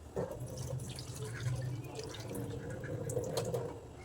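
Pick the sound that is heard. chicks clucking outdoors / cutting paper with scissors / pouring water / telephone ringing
pouring water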